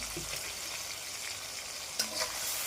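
Whole spices, onion and green chillies sauté in hot oil for a chicken and potato gravy, giving a steady close sizzle with a sharper spatter burst near the end.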